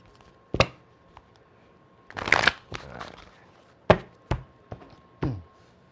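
Deck of cards being shuffled for a reading, a few sharp riffling bursts and brisk taps and snaps spread across several seconds, close and fairly quiet with no talking.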